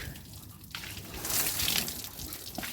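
Warm water from a sun-heated bucket poured over a cow as a shower outdoors, a steady rushing splash that swells midway and then eases, close and without talk.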